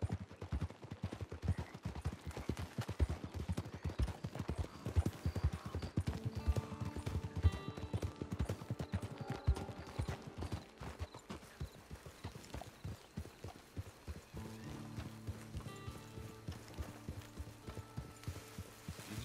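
Horse hooves clip-clopping steadily in a Western video game, Red Dead Redemption, a close, even rhythmic trot that continues throughout, with tonal background score rising beneath it midway and toward the end.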